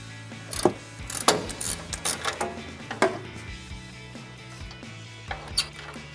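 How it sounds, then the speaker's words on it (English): A 19mm ratcheting wrench turns a control arm nut on a vehicle suspension, giving bursts of quick clicking ratchet pawls with small pauses between strokes, close and crisp. "a 19mm ratcheting wrench on the nut side"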